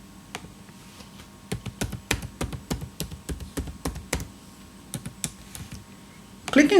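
Keys tapped on a computer keyboard while entering a username and password, a steady run of separate close clicks in uneven bursts, ending in a louder clatter.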